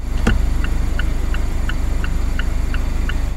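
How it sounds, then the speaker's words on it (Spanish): A Mazda MX-5 Miata turn signal set to low volume ticks in a steady, even rhythm about three times a second. Each click is soft and sits over a low engine idle, with one sharper knock near the start. "Estos son los intermitentes en bajo."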